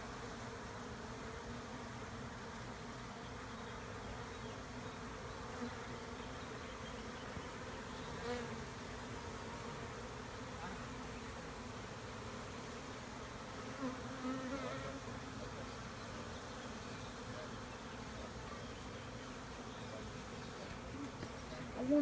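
A dense swarm of honey bees forming a bee beard hums in a steady, close, continuous drone with no break, filling the whole stretch without voices.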